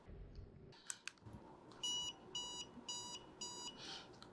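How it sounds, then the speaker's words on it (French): Four short electronic beeps from a power bank signal its battery level in a steady sequence after a few soft clicks, small and fairly quiet in an otherwise silent room. "Comme vous avez pu l'entendre, on a eu 4 bips."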